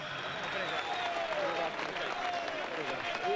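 Audience applause at a sports ceremony honouring local athletes in Brusque, a steady wash of clapping from a crowd heard at moderate distance with a voice speaking over it.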